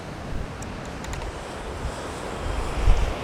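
Sea waves wash against the Pula coast in Croatia with a steady low rumble and hiss, moderately near, under strong wind buffeting the microphone, swelling louder toward the end.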